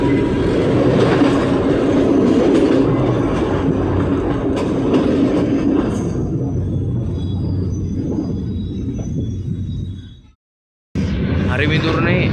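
A train on the Puttalam to Colombo Fort line rumbles and rattles loudly and steadily, easing to a softer roll before a sudden brief silence and then a return of the running noise.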